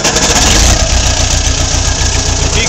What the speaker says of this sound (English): This is how to operate the Case 450 dozer.